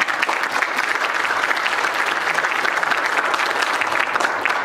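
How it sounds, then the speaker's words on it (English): Dense, continuous audience applause for the technical team at a national registry launch event, many hands clapping evenly and loudly without a break. "All the boys in the operating room, I think they deserve huge applause."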